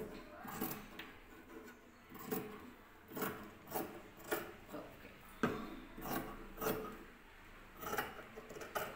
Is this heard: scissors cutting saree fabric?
yes